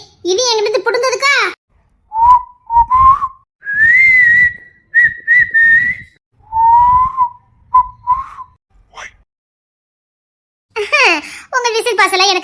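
Someone whistles a series of short and held clear notes, loud and close, with pauses between phrases, while someone speaks before and after the whistling.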